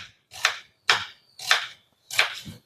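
Onions being chopped with a knife on a board, four crisp, evenly spaced strokes close up, with no voices.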